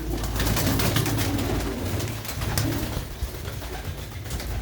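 Pigeons, including a red Cheena pigeon, cooing in a loft amid steady outdoor background noise, soft repeated low coos running throughout with no talk.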